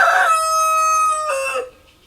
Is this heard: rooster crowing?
yes